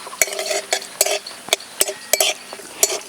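Cashews fry in ghee while being stirred, with a soft sizzle under a series of sharp metallic clinks and scrapes of a utensil against the pan at an irregular rhythm.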